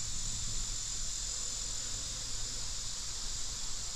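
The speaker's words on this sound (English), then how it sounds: "You can actually just hear the bees in here buzzing." Honey bees buzz around a flowering knotweed patch near beehives, a steady, dense hum and whine that holds without break, fairly quiet and distant, with no voices over it.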